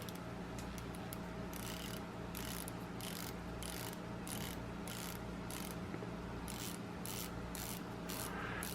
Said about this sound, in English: I don't know if we can hear the bezel